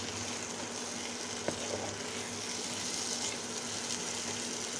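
Beef brain being stirred in a pan with dried fish and vegetables, giving a steady low sizzle and frying hiss with faint scraping of the stir, close and continuous.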